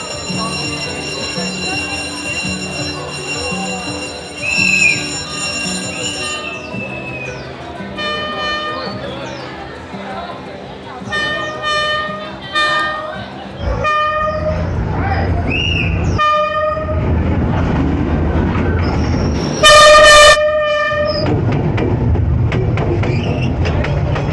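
A train rolls past on a street in Hanoi with a long, loud horn blast and ringing crossing bells, then rumbling wagons, more horn toots and a shrill tone near the end, with voices nearby.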